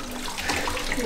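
Running water poured over a frightened dog during a bath, without a sprayer, a steady broadband splash close by, continuous and fairly soft, with no talking.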